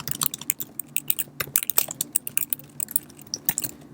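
Fast, irregular clicking of computer keyboard keys as someone types out descriptive text, with crisp, close-up keystrokes in rapid bursts and brief pauses, no voices.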